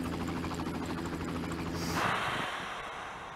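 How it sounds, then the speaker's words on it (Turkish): A Far Cry helicopter hums with a steady rotor flutter in the background, then a brief rush of noise swells and fades as the rotor sound continues. "Helikopter sıkıyor."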